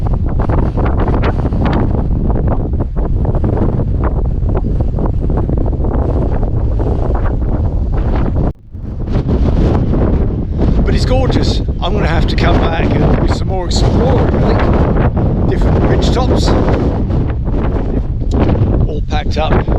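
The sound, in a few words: strong blustery wind on the Dorset coast cliffs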